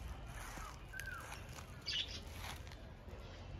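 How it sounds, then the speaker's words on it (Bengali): Faint outdoor bird calls at a zoo, a few brief parrot chirps and squawks over steady background noise, with one sharper call near the middle. "এদিকে দেখো টিয়া পাখি"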